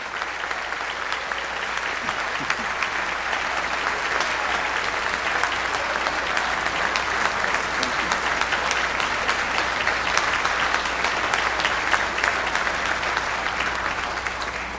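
A packed concert audience applauds choir singers at a hymn festival with steady, dense clapping that holds at an even level throughout, the crowd sounding large and close, with no talk over it.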